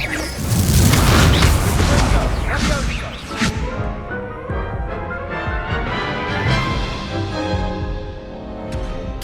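The Incendio fire spell is cast in Hogwarts Legacy: a heavy booming burst with crashing, whooshing impacts, loudest in the first few seconds, then a lingering rumbling fire tail that slowly fades.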